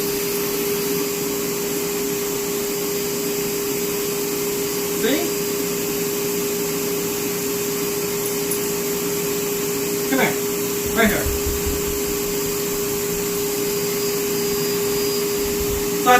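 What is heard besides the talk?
Bissell Bark Bath dog washing machine running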